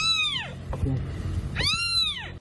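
Two high, plaintive cat meows, one at the start and another a second later, close by over a low background rumble.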